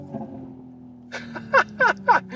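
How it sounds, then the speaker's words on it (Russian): Simulated exhaust pops from a Hyundai Ioniq 6 N electric car, three short sharp pops in quick succession at the end, heard after a faint steady hum. "Это звучит так, будто у нас отстрелы из выхлопной трубы."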